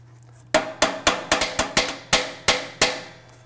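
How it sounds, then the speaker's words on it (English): A rusted part from a Harman P Series pellet stove struck by a hammer: about ten sharp metallic blows, close and loud, in an uneven rhythm that quickens in the middle, with a low steady hum underneath. "Rusted to the point where I had to hammer it like that."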